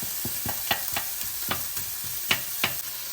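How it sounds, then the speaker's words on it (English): Onions frying in a pan under a constant sizzle, with a spoon stirring them in irregular scraping strokes, close by and with no talking. "Then the onions, fry them for a couple of minutes."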